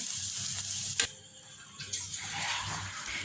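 Bread slices frying in a pan for shahi tukray, a steady soft sizzle with a few sharp clinks and scrapes, fairly close and with no talking.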